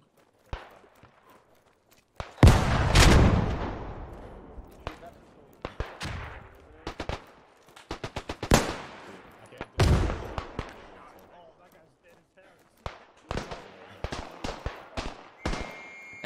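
Machine gun fire in the battlefield shooter Beyond the Wire, with sharp bursts and scattered single shots at varying distances, some loud and close, mixed with footsteps and someone talking over the action.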